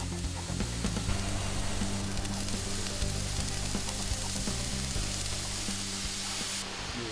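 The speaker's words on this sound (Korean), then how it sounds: "잘라놓은 철제를 용접해서 하나의 덩어리로 이어붙여야 합니다." Arc welding joins pre-cut steel pieces for a long narrow swimming pool frame 9 m by 3 m, a loud steady crackling sizzle that runs almost without a break and then drops away near the end.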